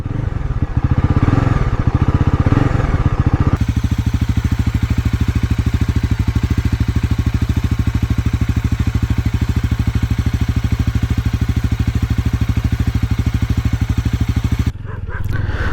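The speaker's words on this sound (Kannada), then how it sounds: "ಸೊ ಎಕ್ಸಾಸ್ಟ್ ನೋಟ್ ಒಂದ್ಸತಿ ಕೇಳಿಸ್ಕೊಳ್ಳೋಣ ಹೇಗಿದೆ ಅಂತ" Bajaj Pulsar NS400Z motorcycle, a 400cc bike with ride-by-wire throttle, runs close and loud with a steady, throbbing exhaust note. Short throttle blips open the clip, then a long, even rev holds until it cuts off near the end.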